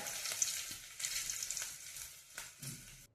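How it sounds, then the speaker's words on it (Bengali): Dried red chillies and a few garlic cloves fry in leftover fish-frying oil, giving a gentle, continuous sizzle with a few stirring clicks, close and quiet. "মাছ ভাজার তেলেই আমি দুটো শুকনো লঙ্কা এবং কয়েকটা রসুন একটু ভেজে নেব"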